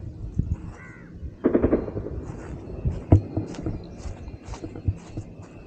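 Distant live-fire army training gunfire reaches a riverside fishing spot as scattered dull pops and thumps, faint and irregular among outdoor ambience, with a crow cawing nearby.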